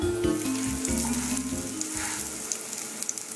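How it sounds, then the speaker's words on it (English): A salmon fillet sizzles in a frying pan, a steady close crackle and hiss that holds at a moderate level throughout with no voices over it. "After a few minutes, or when the bottom of the fish is golden brown, it's time to flip."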